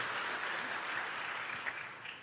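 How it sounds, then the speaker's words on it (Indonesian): A church congregation claps together during a Sunday service, a steady wash of applause that holds evenly throughout and fades slightly at the end. "Kasih tepuk tangan bagi Tuhan Yesus, haleluya"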